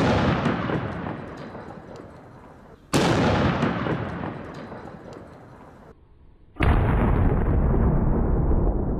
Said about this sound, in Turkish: Kontrollü patlama.